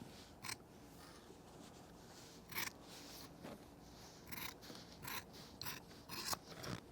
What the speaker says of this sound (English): I'm going to take my shears now and trim this real close